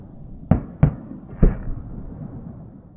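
Fireworks let off from the nearby city of Castine, Maine, heard from the water as three distant booming pops in quick succession, the last one rolling off into a faint rumble.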